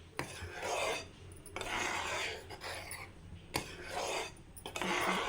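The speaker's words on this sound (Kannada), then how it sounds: "2-3 ನಿಮಿಷಕ್ಕೊಮ್ಮೆ ಹೀಗೆ ಸ್ವಲ್ಪ ತಿರುಗಿಸ್ಬೇಕು" A spoon scraping the bottom of a pot while homemade ghee is stirred over a low flame: repeated close, rasping strokes in an uneven rhythm, fairly quiet, with no talk.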